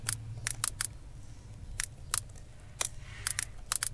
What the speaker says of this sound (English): So if we type here something, please listen the sound of clackety.